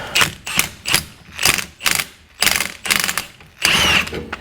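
Rapid, evenly spaced ratcheting bursts, about nine strokes, close and fairly loud, as a wrench tightens a rusty rear sway bar end link on a Mazda 6.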